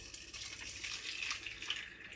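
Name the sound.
water poured from kettle into cooking pot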